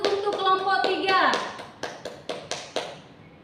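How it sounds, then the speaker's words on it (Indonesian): A classroom group applauds after finishing a presentation, a burst of mixed claps and taps that thins into a few scattered, separate claps, with children's voices under the opening second. "Beri aplaus untuk kelompok 3."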